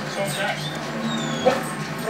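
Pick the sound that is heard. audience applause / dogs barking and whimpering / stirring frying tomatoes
dogs barking and whimpering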